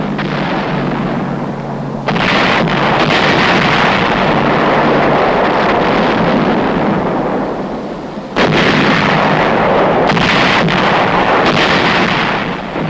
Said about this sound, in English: Only our big guns could reach that heavily fortified little island.